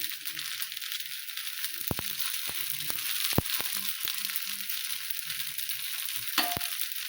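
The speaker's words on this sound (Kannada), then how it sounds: "ಈಗ ಮ್ಯಾಗೆ ಒಂದು ಸ್ವಲ್ಪ ಎಣ್ಣೆ ಹಾಕ್ತಾರೆ" Oil sizzling softly in a paddu pan while masala paddu cooks, a steady faint hiss with scattered clicks and light taps of a utensil against the pan.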